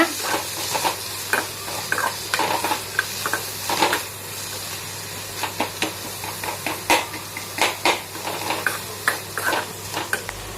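Onions with turmeric sizzle in a frying pan while a utensil stirs them in repeated scraping strokes, a steady frying hiss under the irregular clatter, close and moderately loud with no talk.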